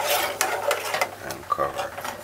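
A spoon stirs a boiling mixture with vanilla in a pot on the stove, with scraping and clinking strokes over a faint simmer, close and moderately loud.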